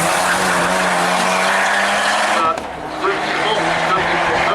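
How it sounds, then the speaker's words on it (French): Honda Civic race car launching on a slalom course, a loud steady engine roar close by that briefly dips mid-run before resuming, with tyre noise and a commentator talking over it. "Puis là, c'est la Honda Civic de Raphaël Barfous qui a pris son départ."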